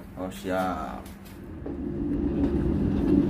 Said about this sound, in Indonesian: kereta api Jakarta diberangkatkan dari stasiun Caruban